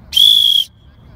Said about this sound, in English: Sorry for the whistle.